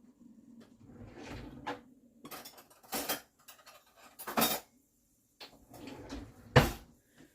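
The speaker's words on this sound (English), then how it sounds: "Let me get a spoon." Cutlery and a drawer rattle in a home kitchen while a spoon is fetched for mixing a dairy-free coconut peppermint coffee creamer, with several short clinking, sliding bursts spaced apart, fairly close and moderate in loudness, no talking.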